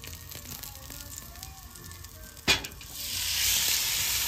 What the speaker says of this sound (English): Oh, I love hearing that sizzle right there.